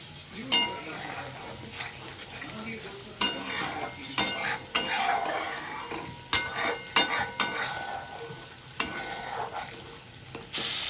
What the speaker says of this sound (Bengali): মশলাটা সর্ষেটা ভালো মতন কষিয়ে নিচ্ছি